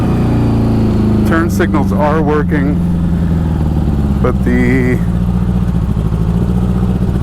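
A 1984 Honda Goldwing motorcycle, unregistered and uninsured, rumbles steadily with a low engine drone throughout a short ride, while someone talks over it for most of the stretch.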